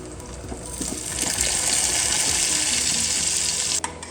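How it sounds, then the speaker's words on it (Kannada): Cashews and raisins fry in ghee for carrot halwa, giving a loud, dense, bubbling sizzle close up that swells and holds steadily, then cuts off sharply near the end. "ಒಂದು 7-8 ಗೋಡಂಬಿ, ಒಂದು ಸ್ವಲ್ಪ ದ್ರಾಕ್ಷಿ, 1 ಟೇಬಲ್ ಸ್ಪೂನ್ ದ್ರಾಕ್ಷಿ ಹುರ್ಕೊಳೋದು"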